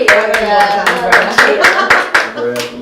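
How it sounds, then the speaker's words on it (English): A small group at a training session claps in a loose, uneven rhythm of separate, fairly close hand claps, with a voice murmuring briefly near the end. "So give a round of applause."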